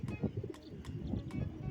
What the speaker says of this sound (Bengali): এক ভাইয়ের কাছ থেকে দুটো কবুতর নিছি